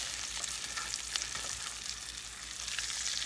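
A burger patty frying in a pan on a stove at medium heat, giving a steady, even sizzle and crackle, close but fairly soft, with no voices.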